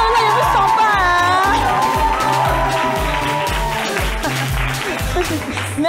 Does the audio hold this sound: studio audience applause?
yes